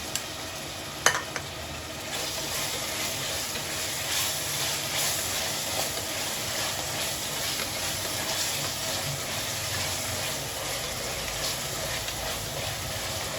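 A medium tomato frying in a pan with mint and coriander, a steady, even sizzle and hiss close up that runs unbroken, with a single sharp clink near the start.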